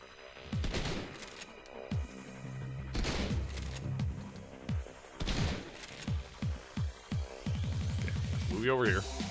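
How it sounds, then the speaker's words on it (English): A double shotgun in the Shadowrun Returns video game fires repeated booming blasts, loud and close, some in quick successive bursts amid clanking game effects, with a voice talking over the action. "That double shotgun."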